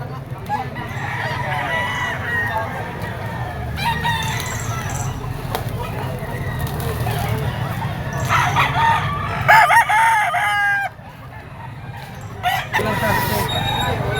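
Yellow-legged stag gamefowl roosters crow repeatedly at a roadside poultry seller's stall, several loud nearby crows over clucking and background noise, while someone speaks throughout.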